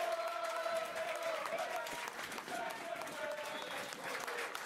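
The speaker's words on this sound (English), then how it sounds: "the Diamonds fans gave Dale Roberts a minute's worth of singing and applause" AFC Rushden & Diamonds football fans at an away ground against Spalding United sing and applaud together, a sustained crowd chant with clapping and one held sung note running through it.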